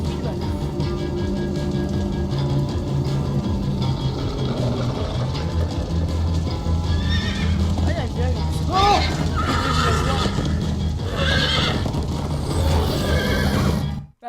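Horses in the video game Minecraft: Story Mode whinny and gallop with clip-clopping hooves, loud and continuous, layered over a rumbling game soundtrack while characters talk.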